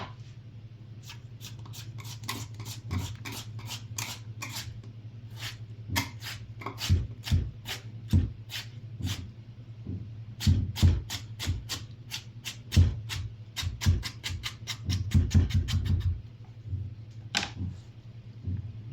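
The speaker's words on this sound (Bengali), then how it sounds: "এখন এটারে কাটবো কুচি কুচি করে" A knife finely chopping a vegetable on a board, with rapid, crisp taps in uneven bursts over a constant low hum.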